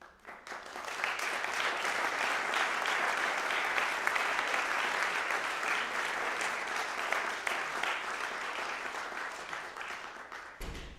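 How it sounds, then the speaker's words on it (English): Concert audience applause at a percussion group show, steady dense clapping filling the room for about ten seconds before tapering off at the end, with no talking over it. "You stopped clapping and I wasn't even down yet."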